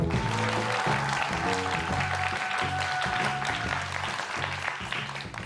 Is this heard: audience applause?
yes